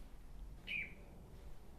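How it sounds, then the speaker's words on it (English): A single short bird chirp rings out faintly about midway through, over a quiet low background hum. "She hears the bird."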